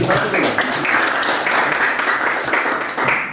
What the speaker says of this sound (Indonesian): berikan aplaus dulu buat kelompok 1